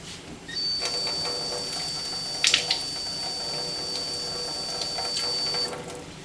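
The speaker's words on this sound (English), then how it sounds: "I'm going to fill the top half very carefully with a little bit of water. Now, I'm going to do it from the sink." Water running from a sink tap in a chemistry lab to fill a container, a soft steady hiss of flow that starts, holds for several seconds with a brief clatter midway, then stops.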